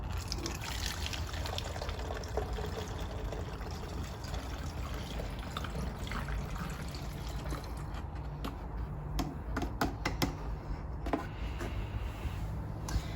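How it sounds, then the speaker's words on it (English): Nail polish remover trickles and pours steadily into a container, with small splashes and clinks scattered through the quiet, close-up flow. "it's still usable as nail polish remover, so I'll just pour this back in here"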